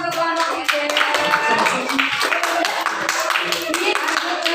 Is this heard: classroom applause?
yes